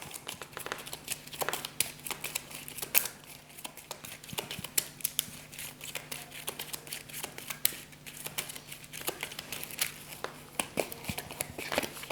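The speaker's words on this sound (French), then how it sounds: "Là, par contre, je peux mélanger mes cartes parce que ma pioche, elle est effectivement vide ici. Donc je vais mélanger mes cartes." Game cards for Shadowrun Crossfire are shuffled by hand at a table, giving a long run of soft, irregular riffling and flicking with a faint steady hum underneath and no talking.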